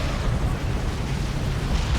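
An orbital strike in Dawn of War 2 erupts as a dense, sustained explosive rumble, loud and continuous, with heavy low booming throughout.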